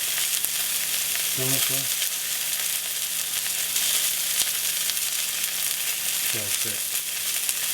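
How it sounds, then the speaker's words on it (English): Venison tenderloin sears in a hot pan with a constant, loud sizzle and crackle throughout; two brief squeaky scrapes come through, and a voice speaks briefly. "we're pan searing it, letting it get a nice crust on the one side, and we're gonna give it one flip"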